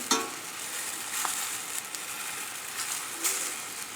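Scallops and shrimp sautéing with garlic, onions and wine give a steady, soft sizzle and frying hiss, with a few brief stirring clicks and pops over a constant background.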